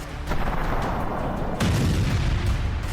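Russian missile and drone strikes hit Kyiv, and the explosions come through as dense, rumbling booms under continuous roaring noise, with a heavier low blast surging in midway through.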